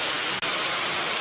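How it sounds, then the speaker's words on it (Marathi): Heavy monsoon rain in a village pours down in big drops, a dense, even roar of water on the surface that stays loud and constant from start to finish. "बरं झालं भाऊ झाला पाऊस शेवटी"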